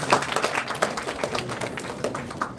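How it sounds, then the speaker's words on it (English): An audience at an alumni entrepreneurs summit applauds a team called to the stage, a moderate patter of many hands clapping at fairly even strength that tapers slightly toward the end. "Give them a background of applause, everyone."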